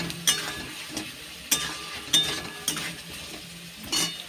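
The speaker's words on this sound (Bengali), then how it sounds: "ভালো করে কষাবো।" Fried potatoes and cashew paste being sautéed for Kashmiri aloo dum in a pan: a steady low sizzle broken by about half a dozen sharp, close spatula scrapes and clinks at an uneven rhythm, with no talking.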